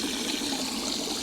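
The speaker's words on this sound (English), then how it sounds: "So there's plenty of bubbles going in there, so it's going to work perfectly just like this." Air bubbles from an aerator stream into a homemade live bait tank for bass and tope fishing, making a steady close-up fizzing and gurgling of water that runs without a break.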